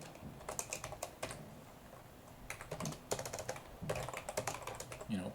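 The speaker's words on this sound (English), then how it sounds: "if I can learn to type" Someone types on a computer keyboard in bursts of quick, close clicks separated by short pauses, with no talking.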